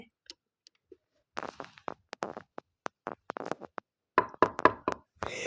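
Knocking on a door, several sharp raps in short bursts with pauses between them, fairly close and distinct, building to a quicker, louder cluster of knocks near the end; no talking.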